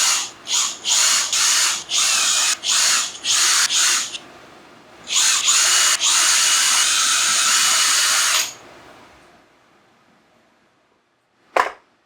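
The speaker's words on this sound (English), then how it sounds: "I'm going to use a Forstner bit to countersink the holes" Power drill with a Forstner bit boring countersink holes into an old front door being made into an outdoor table: several short bursts, then one long steady run, close and loud, ending with a single sharp click.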